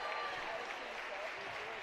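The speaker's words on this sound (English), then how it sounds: "as you hear the crowd light up as she comes off" Crowd at a high school girls' basketball game between Mineola and Chapel Hill lights up with applause and cheering as a senior player leaves the floor, a steady broad roar heard from within the gym.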